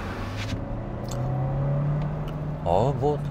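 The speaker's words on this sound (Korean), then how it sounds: "이 고속에서 바닥에서 타이어 굴러가는 소음이 꽤 많이 들어옵니다." Steady low tire and road roar inside a Kia Sportage Hybrid cruising at highway speed, a constant cabin drone with a voice rising over it near the end.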